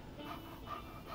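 Dog panting in the video game Life is Strange, a steady, soft, rhythmic breathy pant repeating through a short stretch over a low background bed.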